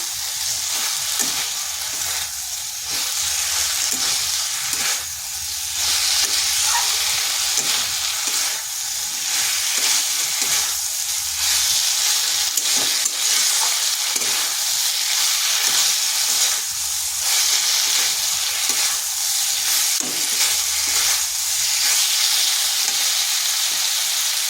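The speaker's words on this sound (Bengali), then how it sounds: "দিয়ে দিচ্ছি আলু ও কাঁকরোলটা। এরপর এটা মশলার সাথে ভালো করে মিশিয়ে নেব।" Potatoes and spiny gourd stir-frying with spices in hot oil in a kadai, a loud continuous sizzle with scraping stirring strokes throughout, close and without speech.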